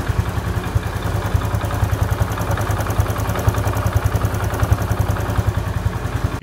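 A Honda Pop 110i motorcycle idles close by after a service at 36,000 km, its engine holding a steady low chug with a fast, even clatter throughout and no talking over it.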